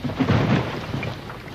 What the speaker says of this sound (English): Must be a storm.